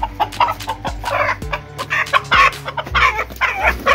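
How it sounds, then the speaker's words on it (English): A rooster clucks in rapid, close, loud bursts, with throaty calls and a partial crow running over a low steady hum. "It's a proper rooster, that is, isn't it?"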